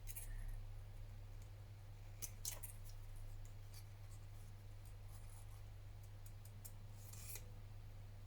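Scissors snip through paper while a photo tag is being cut, a few quiet, sharp clicks scattered over a steady low hum, close and faint, with no talk.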